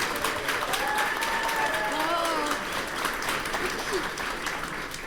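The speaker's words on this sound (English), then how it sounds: "So let's give a big round of applause for Recon Village." An audience at DEF CON Recon Village applauds in a full room, steady dense clapping that holds throughout, with a few voices faintly underneath.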